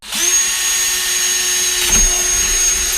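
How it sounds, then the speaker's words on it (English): A power drill bores holes to mount a Bluetooth speaker, whining loudly and continuously at close range, with a brief thump midway and no talk. "you just line up the holes and you start drilling"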